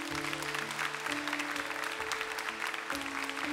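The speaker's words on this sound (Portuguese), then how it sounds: "Então aplauda o nosso Deus." A church congregation applauds with dense, continuous clapping that carries over sustained musical tones, heard at a moderate distance throughout.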